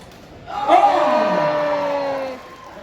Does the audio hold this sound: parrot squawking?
no